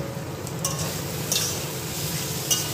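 Hollowed pointed gourds (potol) frying in a pan, a steady close hiss of hot oil with a few faint stirring scrapes.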